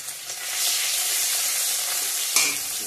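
Onion and garlic fry in a pan with cumin seeds and crushed ginger as they are stirred, giving a steady, close, broad sizzle with a brief louder scrape near the end. No one speaks.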